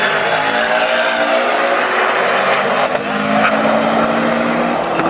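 Loud, continuous engine roar from a Subaru and a supercharged Ford Mustang launching in a drag race at a strip, with a sustained high-revving whine, faint tire squeal and no break in the noise.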